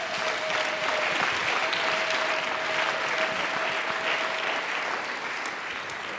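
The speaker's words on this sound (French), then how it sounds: "Applaudissons pour le Seigneur." Congregation applauding during a French-language church service, a full, steady wash of clapping from many hands that stays loud and even throughout, with no voices standing out.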